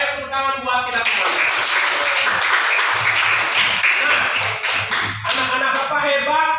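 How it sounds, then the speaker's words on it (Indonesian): Classroom of children clapping together, a dense burst of hand claps with voices mixed in, close and loud, tapering toward the end. "Ayo tepuk tangan buat kita semua."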